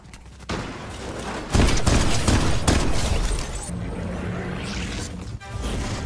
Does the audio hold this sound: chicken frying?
no